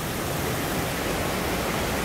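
Waterfall at Comfort Castle in Portland along the Dry River, a constant broadband rush of falling water, steady and fairly close, with no voices.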